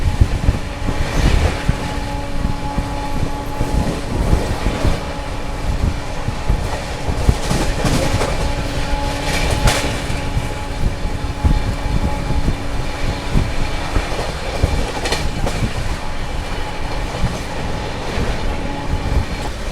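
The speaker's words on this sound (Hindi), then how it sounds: "बढ़िया दौड़ रही है ट्रेन एकदम अपनी।" Jallianwala Bagh Express (12380) running at speed between Jalandhar and Delhi, a steady loud rumble of carriages with rhythmic clickety-clack of wheels over rail joints throughout, heard from on board.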